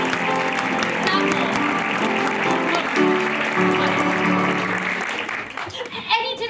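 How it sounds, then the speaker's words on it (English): Audience applause in a school theatre during a stage production, a steady dense wash of clapping that holds for several seconds under music, then thins out toward the end. "So, a warm round of applause, if you will, for tonight's guest artiste"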